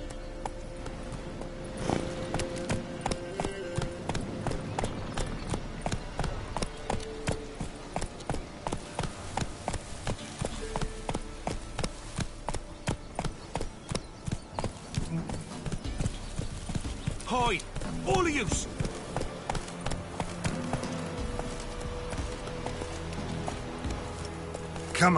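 Roach, a horse in The Witcher 3 on PS5, gallops with fast, regular clip-clop hoofbeats that stay close and clear throughout, with a brief whinny-like burst near the end.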